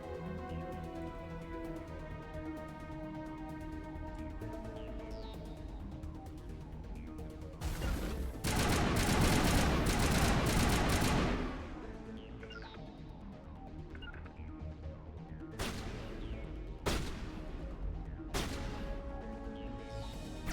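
Gunfire in the video game Mass Effect: a dense burst of loud shots from about 8 to 11 seconds, then a few sharp single shots later, all over steady game music and background sound.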